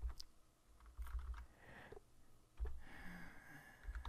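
Quiet keystrokes on a computer keyboard, a few scattered clusters of soft taps and clicks with pauses between, faint and close.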